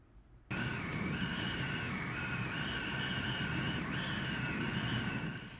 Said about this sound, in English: that is the sound of a Category 5 hurricane blasting Freeport